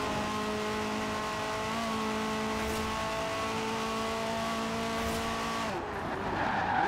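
A car's tires squeal in a long, steady skid under hard braking in Forza Horizon 4, the tonal screech holding for several seconds over engine noise before cutting off and giving way to revving.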